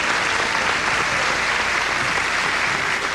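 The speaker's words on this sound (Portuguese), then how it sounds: "pode aplaudir" Dense, steady applause from a large audience, loud and continuous throughout with no gaps, at a gathering honouring a woman introduced on stage.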